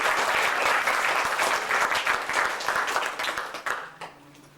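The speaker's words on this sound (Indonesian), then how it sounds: "Tepuk tangan dulu untuk" An audience at a selling and recruiting seminar claps in dense, loud applause that holds for several seconds, then thins out and fades.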